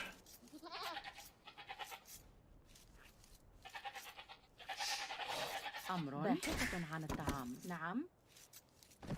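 Goats in Age of Empires II bleat in several wavering, nasal calls that cluster toward the end, mixed in with a person talking over them throughout.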